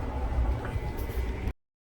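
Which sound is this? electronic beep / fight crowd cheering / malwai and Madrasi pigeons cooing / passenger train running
passenger train running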